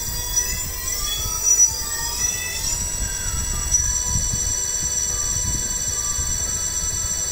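48/60V 1200W 12-inch electric hub motor on a conversion kit spinning on a test stand, a sustained high whine with shifting pitch and faint rattling underneath, close and steady with no talking.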